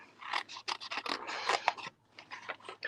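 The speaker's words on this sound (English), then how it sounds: "Let me just fussy cut these out so that I can lay them right on that paper." Scissors fussy cutting out small paper swatches, close up: a quick series of crisp snips and rustling paper strokes in uneven bursts, with a short pause before more cutting.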